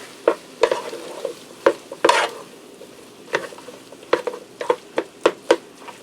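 Potatoes being stirred on the saute setting in a Ninja Speedi for crack potatoes, with a loud run of sharp utensil scrapes and knocks in irregular bursts over a soft, low sizzle, close up and without speech.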